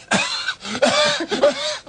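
Someone imitates a harsh hacking cough, three raspy bursts in quick succession, loud and close.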